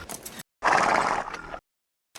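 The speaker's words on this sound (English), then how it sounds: "This is my horse Fritz." A horse named Fritz neighs loudly and close in a film scene, one long shrill whinny with snorting breaths around it, alone without talk, followed by silence.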